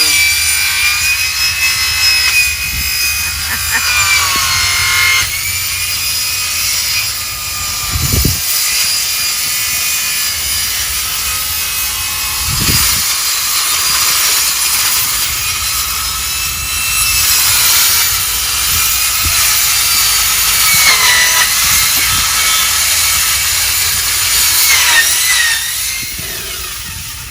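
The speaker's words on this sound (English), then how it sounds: "What you just heard is a special metal cutting saw." A special metal-cutting saw slices through metal on a Habitat for Humanity house build site, a steady, loud grinding whine running nearly half a minute with a couple of brief heavier thumps.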